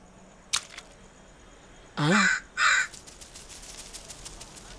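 A crow gives two loud, close caws in quick succession, preceded by a single sharp click, against a quiet background.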